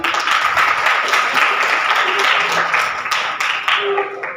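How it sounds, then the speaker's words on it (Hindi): Seminar audience applauds in a steady, dense wash of clapping that holds for several seconds, fairly close and loud, thinning slightly toward the end with no voices over it. "साहब इनके लिए बहुत सी तालियां।"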